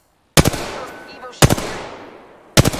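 Apex Legends gunfire as the character Seer: three sharp, loud broadband gun bursts spaced about a second apart, each ringing out into a decaying tail before the next.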